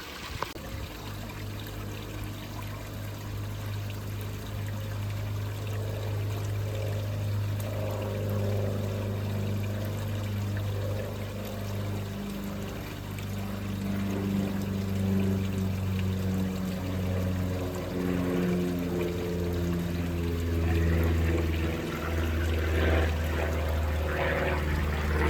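Water drains steadily from a garden pond being lowered for a filter clean and water change, a continuous close pouring, trickling rush with a low pump-like hum underneath throughout.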